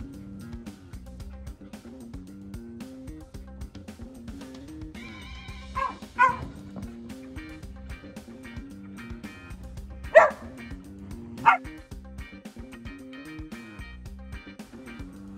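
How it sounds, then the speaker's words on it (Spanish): Male whippets barking for attention from a female in their group: a few sharp, loud barks and yips over quiet background sound, with soft whimpers in between. "Aquí volveremos a ver a dos machos intentando con el ladrido captar la atención de una de las hembras del grupo."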